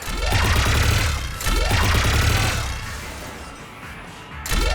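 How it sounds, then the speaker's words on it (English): Gunfire in the video game Mass Effect rattles in dense, sweeping bursts with a rising and falling whoosh, loud and close, then briefly eases before another volley starts. "Just following the gunfire."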